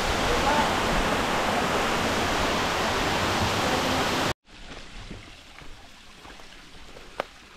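Loud, steady roar of a waterfall along a forest hiking trail in Maragondon, Cavite fills the first four seconds, then cuts abruptly to quieter outdoor ambience with faint rustles and a brief tick.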